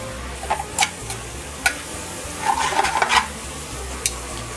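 A glaze of wine, sugar, garlic and chili flakes goes into a hot pan of wilting vegetables, giving a sudden burst of sizzling and a scraping stir amid faint clicks and light pan noises.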